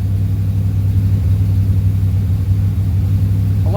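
A C3 Corvette engine at high idle makes a loud, steady low rumble that holds even throughout, close by and with no voices.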